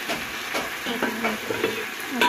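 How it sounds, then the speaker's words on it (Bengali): Meat sautéing in a pan with a steady close sizzle, broken by a few scraping stirs of a spatula and occasional stronger crackles. "মাংস কষানো হয়ে আসছে, মাংসটা কষিয়ে নিচ্ছি"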